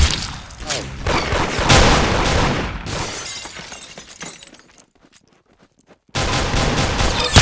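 Gunfire from the Roblox shooter game Arsenal, loud rapid shots mixed with sharp glassy cracks, dropping to near silence for about a second before the din resumes.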